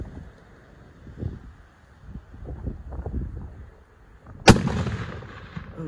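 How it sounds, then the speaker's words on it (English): A single sharp rifle shot cracks out during an elk hunt in open country, loud and close, followed by a short rumbling echo over light wind noise. "Hey, put another one in him, Jerry."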